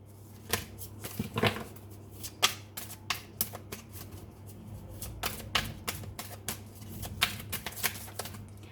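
A deck of tarot cards being shuffled before a draw: a series of close, crisp riffling bursts and sharp card taps in an irregular rhythm, heard alone over a faint steady hum.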